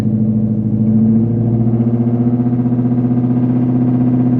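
Ford Mustang GT V8 revving steadily around 1500 rpm as the throttle is pressed, a loud, close, continuous engine drone with a strong low hum and no speech over it.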